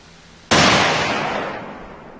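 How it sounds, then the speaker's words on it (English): A single sharp gunshot from the video game Payday 2, a sudden loud broadband crack that cuts in abruptly and decays slowly into a long, fading reverberant tail. "Gunshot."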